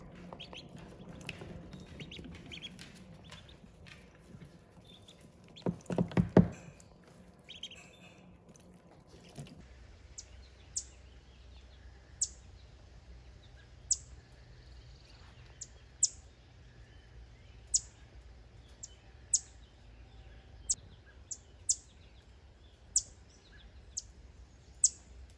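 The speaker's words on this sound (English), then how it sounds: "He hears birds chirping over there." Faint, sparse bird chirps repeat at irregular intervals in a quiet outdoor setting, after some brief rustling and handling noise.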